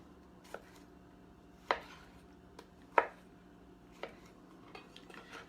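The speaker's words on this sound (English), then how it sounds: "you just cut these into bite-sized pieces." Knife slicing purple Cherokee tomatoes into bite-sized pieces on a cutting board, five or six crisp separate chops spaced about a second apart, close and fairly quiet against a soft background hum.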